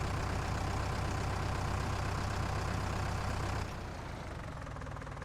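Farming Simulator 19 tractor straining as it pulls a plough, a constant loud low engine drone that drops in level near the end, no voices.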